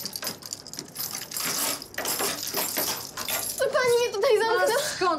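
Keys jangle as someone hunts for the right one to open a locked basement door. Bright metallic jingling comes in bursts, close and fairly loud, and a voice speaks over the last part.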